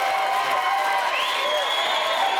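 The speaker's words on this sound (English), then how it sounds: "Okay, that's too much cheering." Late-night talk show studio audience cheering and applauding loudly and steadily, a dense wash of crowd noise with whoops rising through it for the whole stretch.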